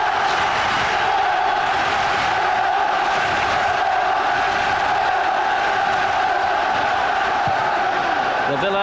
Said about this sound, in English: The Villa crowd try to lift their players for one last final push perhaps